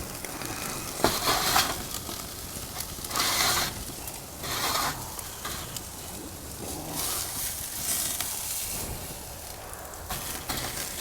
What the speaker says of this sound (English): We're just gonna leave the lid off and let this thing sear up.